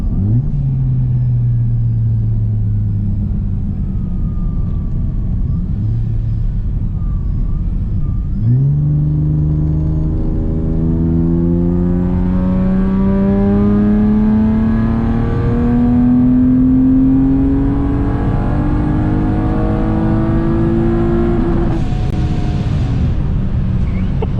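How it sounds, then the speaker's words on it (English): A boosted Acura TL-S with a new billet part pulls at wide open throttle up to redline, its engine note climbing steadily and loudly through the gears with brief dips at shifts, heard from inside the car without talk. "we're gonna go wide open throttle today to Redline"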